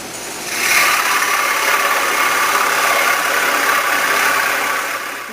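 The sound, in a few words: cutting wood plugs at low speed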